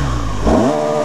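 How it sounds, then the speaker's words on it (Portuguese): A BMW 1200 motorcycle engine revs up close, a steady idle rumble rising into a loud, climbing rev near the midpoint and holding at higher pitch to the end. "Você gosta quando a moto sai de giro?"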